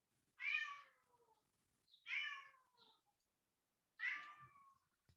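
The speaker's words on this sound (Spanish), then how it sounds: "Escucho un gato" A cat meows three times, each a short, clear call spaced a second or two apart, faint and somewhat distant against near silence.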